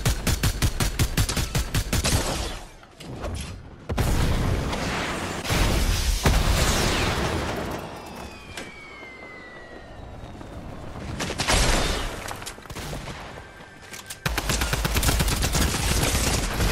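Rapid automatic weapon fire rattles in bursts during a Fortnite match, with volleys of shots, pauses and renewed loud firing alongside other game effects.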